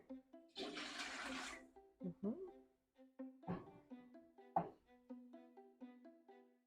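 Two cups of water gush briefly into a pot for beet canning brine, a hollow splashing rush, followed by quiet clinks and handling sounds while a person talks nearby.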